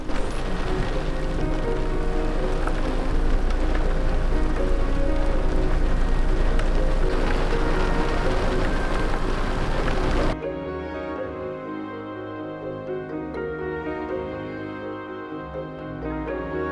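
Heavy rain pours down at a camp in Kgalagadi, Mata Mata, in a dense, steady hiss, then gives way abruptly to quieter, different sounds.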